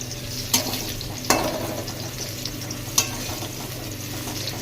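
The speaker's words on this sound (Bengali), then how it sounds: "এক জায়গায় অল্প অল্প জিনিস দিয়ে ভাজা হচ্ছে" Food frying in a shared cooking spot during Loknath puja preparations at night, a continuous moderate sizzle under a low background hum, punctuated by a few sharp clinks or scrapes of utensils, with no talk.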